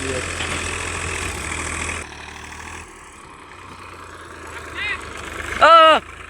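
Tractor engine idles steadily while reversing, a low continuous drone that drops in level midway, then a short high mechanical whine near the end; voices talk over it.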